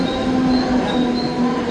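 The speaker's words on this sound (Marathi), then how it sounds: "आणि आता ट्रेन आले" A Mumbai local train arrives, rumbling steadily close by, with a low grinding roar and faint high squeals from the wheels, no voices.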